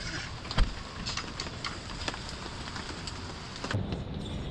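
Rain falling outdoors in a rural forest setting, a steady close patter with scattered sharper drops and knocks, with no one talking.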